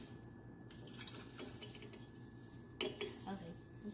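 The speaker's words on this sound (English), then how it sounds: "the kids need to pour the salt crystals and the 4 mLs of water, which we measured out, into the jar at the same time" Salt crystals and a small measure of water are poured together into a jar for a kids' craft kit, giving a soft trickle and a couple of sharp clinks against glass, close and quiet.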